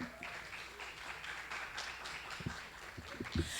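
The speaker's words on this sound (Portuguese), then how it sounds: "Uma salva de palmas" Audience applause for an author at a Brazilian literary panel on the city and writing, a steady wash of many hands clapping at moderate distance with a few sharper nearby claps and faint voices underneath.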